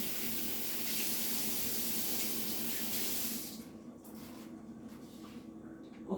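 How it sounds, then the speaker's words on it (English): A kitchen faucet runs in a steady broad hiss as hands are rinsed under it for about three seconds, then the water stops and faint handling noises follow. "let me just rinse my hands."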